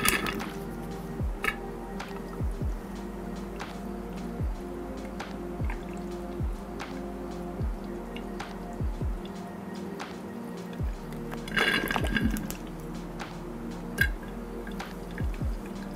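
Coolant trickles through a small hose into the fill port of a Bitspower Titan One 2.0 PC water-cooling loop, giving repeated soft drips and squishy gurgles over a low steady hum, close and fairly quiet.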